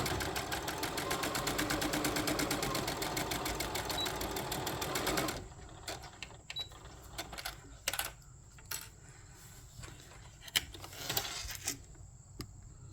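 A sewing machine stitches a boxy bag near a zipper, running in a steady rapid buzz for about five seconds, then stopping into short stop-start bursts and clicks as it reverses and backstitches.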